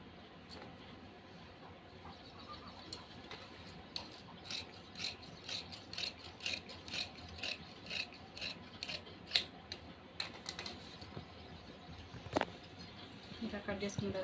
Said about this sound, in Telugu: ఫస్ట్ అనేవి ఈ ఎడ్జెస్ నీట్గా స్ట్రైట్ లైన్ అనేది గీసుకొని కటింగ్ చేసుకోవాలి